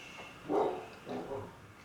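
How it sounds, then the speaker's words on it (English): A dog gives a couple of short barks close by, one sharp bark followed by a softer double woof. "That was Gordon barking."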